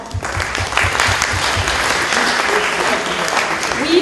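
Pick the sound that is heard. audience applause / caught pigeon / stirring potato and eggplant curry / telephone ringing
audience applause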